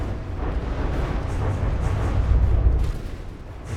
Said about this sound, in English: there goes the torpedoes.